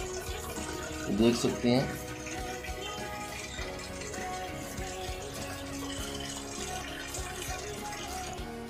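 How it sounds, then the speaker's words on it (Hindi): Water runs steadily into the tub of a fully automatic washing machine, a constant close rush beneath someone speaking Hindi. "जब ये पानी पूरा फिल कर लेगी उसके बाद ये टाइम शो करेगी।"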